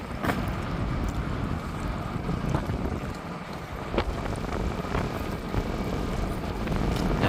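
Strong wind roars steadily across an outdoor microphone in the early hours, with broadband buffeting throughout and a few sharper gusts cutting through.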